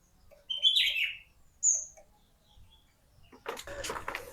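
A caged pet songbird gives a couple of bright, sharp chirps up close, separated by quiet gaps, followed by a burst of clattering and shuffling noise toward the end.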